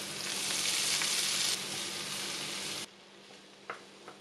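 Instant noodles with green onions stir-fry in a pan, sizzling loudly and steadily at first, then the sizzle drops away sharply to a quiet hiss with a couple of soft clinks of stirring.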